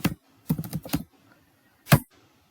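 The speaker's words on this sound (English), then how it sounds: "Open a command prompt and type Vagrant" Keystrokes on a computer keyboard as a short command is typed: one tap, a quick burst of several clicks, a pause, then a single firm keypress, close and clear with no talking.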